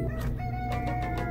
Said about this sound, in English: We got any chickens down here?